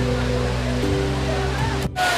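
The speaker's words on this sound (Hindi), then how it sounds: "ये वाटरफॉल देख सकते हो" Tungareshwar Waterfall near Vasai, Mumbai, roars as a constant broadband rush of falling water, close and steady, with a humming tone and some voices underneath and a brief dropout near the end.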